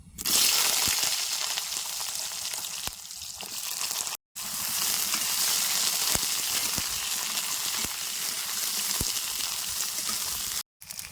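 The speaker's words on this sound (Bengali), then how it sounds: "মাছ ভাজার তেলে বেগুনগুলো ভাজে নেবো" Constant loud sizzling of eggplant frying in hot oil with cumin, close up, with a few brief gaps and occasional stirring clicks.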